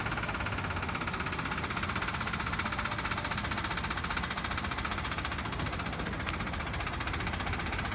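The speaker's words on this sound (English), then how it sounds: "She's gonna go ahead and start your car up for a second." A BMW engine idles steadily with a faint rhythmic engine knock running underneath, quiet and unchanging throughout.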